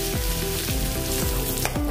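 Garlic and ginger paste fries in a spoonful of hot oil, giving a close, steady sizzle with a faint pulsing undertone and no voices.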